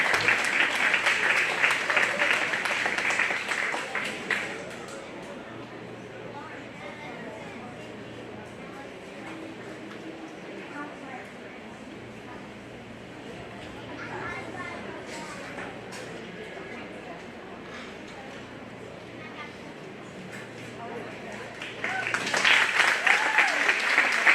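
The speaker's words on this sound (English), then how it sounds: "Let's give these kids a round of applause." Audience applause at a county fair 4-H and FFA beef and bucket calf show: a loud burst of clapping opens and closes the stretch, with a quieter murmuring crowd and faint talk in between.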